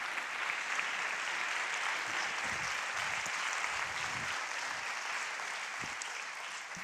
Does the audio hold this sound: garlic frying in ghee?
no